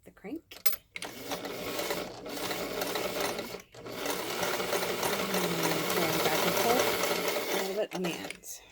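A hand-cranked sewing machine stitches fabric ear savers for face masks, running in a steady close mechanical whir with brief pauses between stretches of stitching, and a voice speaks briefly at the start.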